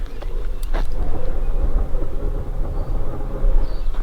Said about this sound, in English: That's boats, doing boat stuff in the background.